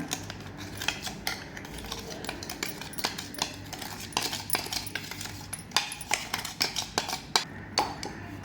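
A spoon scrapes and clinks steadily against a bowl while powdered sugar is mixed into chocolate cake batter, a busy run of close, bright taps and scrapes with no talking.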